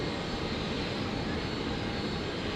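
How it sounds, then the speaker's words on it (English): An Airbus A320 jet departs from runway 01 right at Brisbane International Airport, a steady, dense roar of engine noise holding at even loudness throughout. "A320 departing."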